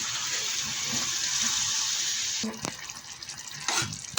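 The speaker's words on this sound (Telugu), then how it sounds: "ఒక చిన్న గ్లాసు వాటర్ పోస్తాం" A small glass of water pours noisily into an eggplant and tomato curry for about two and a half seconds, then stops, followed by a few soft clinks and knocks.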